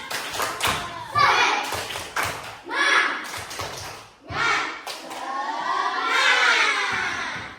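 A classroom of schoolchildren performs a rhythmic spirit clap, bursts of patterned claps and thumps mixed with loud chanting and shouting voices, close and lively.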